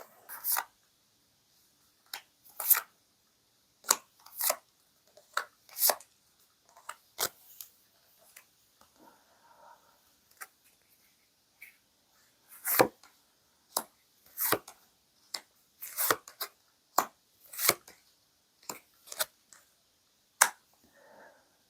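Tarot cards shuffled and drawn at close range, a series of sharp, distinct snaps and flicks scattered irregularly over a quiet background, with no speech.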